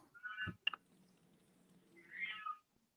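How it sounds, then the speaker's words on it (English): A pet cat meows loudly indoors: one meow, then a brief clatter of clicks, and a second, longer meow after a short quiet stretch, close by with no speech. "My cat is going crazy."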